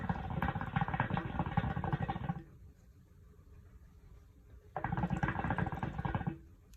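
A Mata Leon hookah bubbles in two long gurgling bursts as someone draws on it, each lasting about two seconds, separated by a quiet pause, close and moderately loud.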